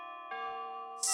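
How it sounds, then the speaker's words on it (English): Clear, sustained tonal chime of the grandfather clock that ends each night in Five Nights at Freddy's, ringing tones with a second strike partway through, followed by a sudden bright burst of cheering noise at the end. "A grandfather clock chiming the same song every time."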